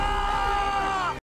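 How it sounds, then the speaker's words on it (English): Civilians screaming in a scene from the Aquaman movie: a loud, sustained high-pitched mixed scream of several voices that cuts off abruptly. "I do love civilians screaming."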